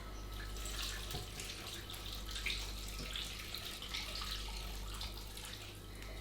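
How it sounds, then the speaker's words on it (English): About 500 ml of stock is poured onto potatoes for a fidget pie, making a continuous, fairly quiet splashing gush of liquid that runs steadily without pause. "onto those potatoes you're going to add 500 mils of your stock"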